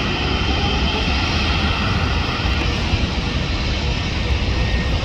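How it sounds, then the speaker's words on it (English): United Airlines Boeing 787-9 jet arriving from Paris at LAX, a steady, loud, unbroken engine roar that fills the whole stretch without fading. "Arriving from Paris, United 787-9."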